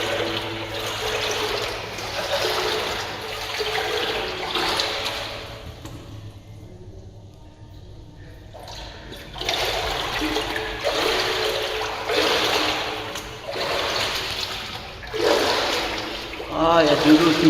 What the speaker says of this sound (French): il y a de l'eau qui me tombe dessus